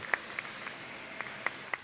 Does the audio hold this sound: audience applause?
yes